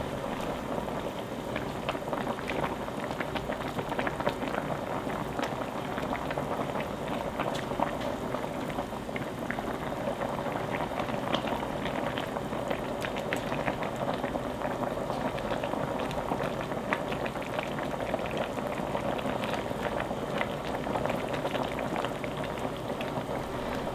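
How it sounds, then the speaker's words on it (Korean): A pot of radish and aged chonggak kimchi stew at a rolling boil, a dense continuous bubbling and popping that stays even and close for the whole stretch, with no talking. "포로록 무가 끓어올랐으면 파를 넣어줄게요"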